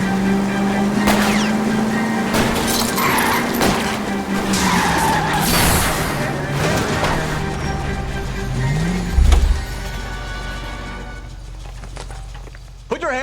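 Tires skid and squeal during a car chase in L.A. Noire, a long wavering screech under engine roar and street noise, with a heavy thump near the end and voices talking over the action.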